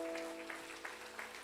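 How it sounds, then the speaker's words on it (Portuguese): Church congregation applauding during a Portuguese-language sermon, a steady wash of many hands clapping at moderate distance, with a sustained tone lingering underneath. "Aplaude ele, aplaude."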